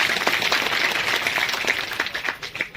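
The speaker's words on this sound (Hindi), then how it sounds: "आप एक बार जोरदार तालियों से स्वागत कीजिए" An audience at a political rally in Uttar Pradesh applauds to welcome a speaker, dense steady clapping from many hands that fades slightly toward the end.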